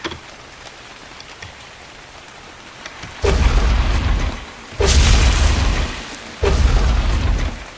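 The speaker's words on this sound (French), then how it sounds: "on va se laisser sur une note de petite pluie." Heavy rain in the video game Ark Survival Evolved comes in three loud, roaring bursts of a few seconds each, separated by quieter gaps, with a deep rumbling low end.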